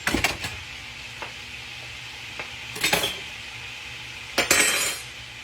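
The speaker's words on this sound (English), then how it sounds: "let me get me a couple of spoons" Metal spoons clink and clatter against each other and a pot of frying collard greens in three short bursts, separated by quiet sizzling.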